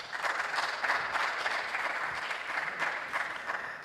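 Audience applause at a national tertiary business quiz championship: steady, dense clapping from a crowd held at an even level throughout, with no speech over it.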